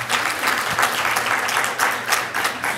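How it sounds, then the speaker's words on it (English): An audience at a community event breaks into sustained applause, with dense, loud, continuous clapping from many hands filling the whole stretch. "Let's give them a round of applause."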